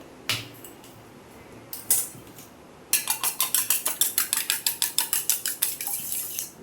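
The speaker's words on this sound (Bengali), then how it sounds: "ডিমটা ভালো করে ফেটে নেবো।" Eggs with pepper and salt beaten in a bowl with a fork or spoon, a few isolated taps and then a steady run of quick, rhythmic clinking strokes against the bowl, close and fairly loud, with no talk.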